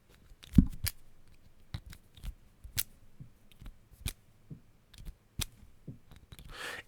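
A Sharpie marker pen is fidgeted with nervously, giving a string of sharp, irregular clicks and taps, some close and crisp, others softer, scattered across several seconds in a quiet room.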